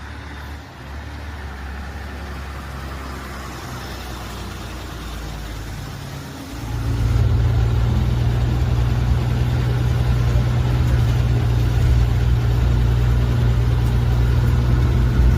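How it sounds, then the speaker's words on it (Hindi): Rama Express bus pulling away from Sanghni: a low idling diesel rises into a loud, steady droning engine as the bus gets under way, heard from inside. "अब हमारी बस चल पड़ी है संघनी से अपनी मंजिल की ओर"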